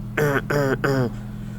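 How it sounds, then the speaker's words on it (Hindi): A man with a sore, scratchy throat coughs three times in quick succession. Each cough is short, voiced and close-up, with brief pauses between them, and there is no other talk. "एक बार मैं खांस लेता हूँ"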